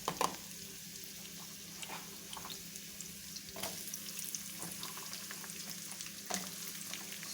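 Onions frying in cooking oil after sautéed garlic, a steady close sizzle and crackle with occasional sharper spits and stirring clatter.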